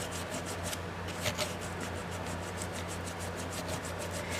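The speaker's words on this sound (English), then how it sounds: "I'm just sanding away." Hand sanding a broken doll's leg: a quick, even rhythm of rasping strokes, close by and repeating steadily with no talking.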